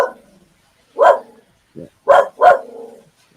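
Dogs bark outdoors on a morning in the Philippines: three or four sharp, moderately close barks in quick succession, with a brief spoken word nearby.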